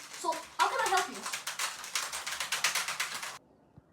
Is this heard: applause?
no